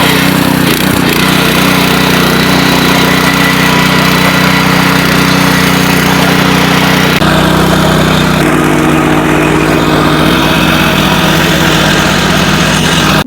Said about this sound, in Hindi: हमारे 8709 बुल में जिसमें 8 HP का इंजन, ताकत इतनी जबरदस्त, टर्बो का इंजन लगा हुआ है